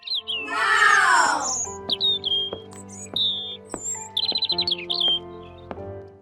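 European songbirds chirp close by: a brief burst of rapid twittering, then a string of short, sharp tweets and quick trilled notes at uneven intervals, clear and alone with no voices.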